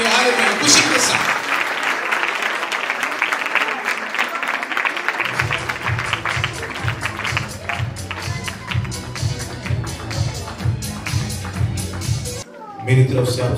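Church congregation clapping at a Christmas celebration, dense broadband applause throughout with some voices mixed in and a rhythmic low thumping pattern emerging partway through, steady and fairly loud.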